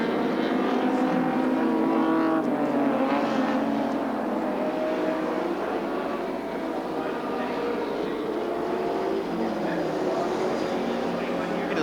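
A 1986 touring race car at Sandown Park roars steadily past on the main straight during the final lap of the Castrol 500, a loud sustained engine drone with a commentator talking over it.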